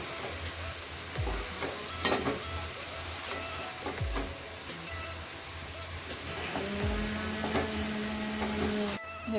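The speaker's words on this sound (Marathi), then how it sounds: "आपण आता मिक्स करून घेऊया हे सगळं." A spatula stirs jackfruit vegetable curry in a pan with repeated soft scrapes and a light background sizzle, quiet and close, with occasional clinks against the pan.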